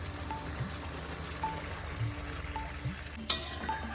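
Water poured into a pan of potatoes cooking for an aloo paneer dalna, giving a low steady sizzle and wet hiss with light stirring clinks and a sharp clatter near the end, close and fairly quiet.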